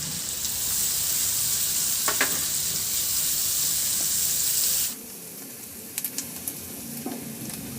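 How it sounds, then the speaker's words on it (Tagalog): Garlic and onion sautéing in a pan give a strong, close hiss for about five seconds before it suddenly drops to a quieter simmer, with a few sharp utensil clinks near the end. "Ilagay ko na rin yung sibuyas."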